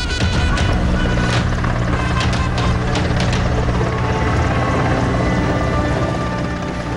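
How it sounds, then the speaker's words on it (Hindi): Steady, loud rotor drone with a low pulsing thrum holding throughout, helicopters passing close overhead. "फूलों की बारिश करते हेलीकॉप्टर"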